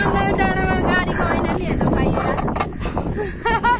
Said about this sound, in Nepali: हावा चाहिँ यस्तो मजाको चलिरहेछ